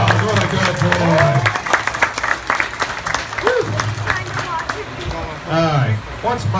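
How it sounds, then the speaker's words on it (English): An audience at an alligator show at Wild Adventures breaks into a burst of clapping and cheering, while a presenter talks loudly over it throughout. "Give Mike a big round of applause."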